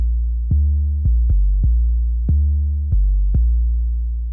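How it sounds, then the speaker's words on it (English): Deep tuned 808 bass drum hits, choked, play one after another in an uneven rhythm, each new note cutting off the previous boom, alone and loud. "So really great for sounds like this, big kind of like tuned 808s."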